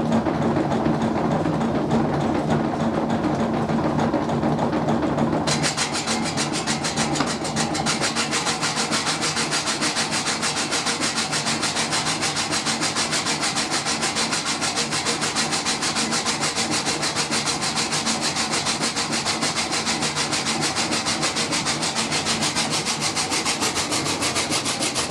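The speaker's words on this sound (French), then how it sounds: "on vient de voir un truc extraordinaire, une scierie dans son jus, Joël." An old village sawmill in Montaimont, at 1300 metres altitude, drones continuously as it saws wood, a dense steady mechanical rumble and whine that holds unbroken and loud throughout, with a slight shift in tone early on.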